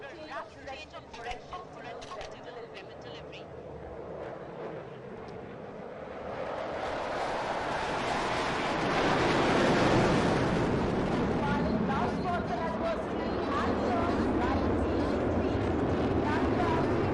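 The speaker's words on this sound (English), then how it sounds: "तेजस की उड़ान और उसकी क्षमता का प्रदर्शन यहां सुखना लेक के ठीक ऊपर।" A Tejas light combat aircraft flies over Sukhna Lake at an Indian Air Force anniversary event, its jet roar swelling from distant to loud and broad, with a voice heard talking at first.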